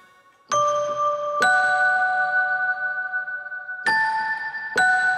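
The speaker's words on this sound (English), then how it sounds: "And then we're going to be using a celeste, which is more of a bell sound." A celeste patch on a keyboard gives bright, bell-like notes, four distinct strikes that each ring out and decay, close and solo with no voices.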